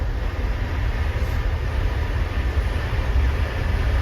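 Heard from inside, a Long Island Rail Road train speeds along toward Bethpage, a constant loud rumbling roar of wheels and motion with a steady broadband hiss, unbroken throughout.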